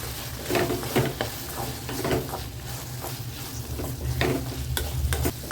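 Brinjal sautéing in a pan for brinjal chutney, a low steady sizzle with a few soft stirring scrapes and clinks of a utensil against the pan.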